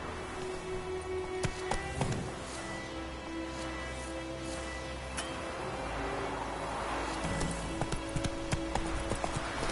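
Roach, a video game horse, gallops in a clear rapid clip-clop of hooves that runs the whole time, close and steady under light ambient game sound, with no talking.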